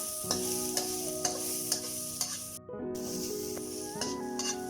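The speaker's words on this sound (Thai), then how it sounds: "ตอนนี้เราก็ผัดขิง" Ginger stir-fried in a pan for a ginger sauce over fried fish, with a constant sizzle broken by repeated rhythmic utensil scrapes and taps under faint background music, no talking.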